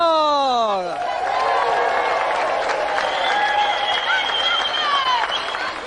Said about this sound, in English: let's have another round of applause for our gallant competitor, Jamie Spencer!